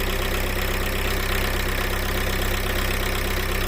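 A car engine, started from a Lidl jump starter booster without a battery, idles steadily with a dense, continuous rumble throughout, close and fairly loud, with no talking.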